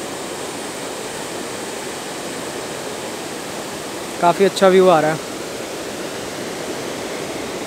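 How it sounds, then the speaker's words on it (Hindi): Fast-flowing river in Parvati Valley near Kasol, a steady broadband rush of water filling the whole clip, with a short burst of speech over it partway through. "नीचे देखो नदी का बहाव कितना तेज है"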